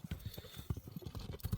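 A horse's hooves clip-clop in a steady, fairly close rhythm as the animal is ridden at a gait; no one speaks over the footfalls.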